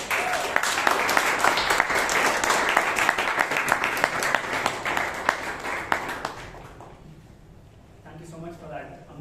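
Sustained audience applause at a Toastmasters club meeting in Bangalore, a dense wash of many hands clapping for about six seconds before tapering off, with faint voices and rustle after it fades.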